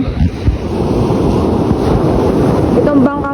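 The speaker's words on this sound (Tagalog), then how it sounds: "Kasi malalaki na yung alon." Steady roar of large ocean waves and surf on the Zambales coast with strong wind buffeting the microphone, continuous and loud throughout.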